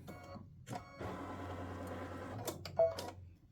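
An embroidery machine runs a satin stitch around a Star of Bethlehem appliqué on a tic-tac-toe board game piece, making a steady, close mechanical whir with rapid ticking and a few sharper clicks.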